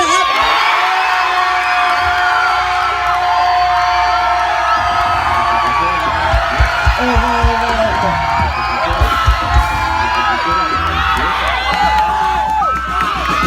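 A loud crowd screams and cheers continuously at a live event, with whoops and shouts layered into a dense roar that swells in the second half.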